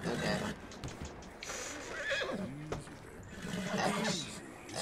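A horse in Red Dead Redemption 2 gives a loud, shaky whinny mid-clip, with hoof clops and game voices around it.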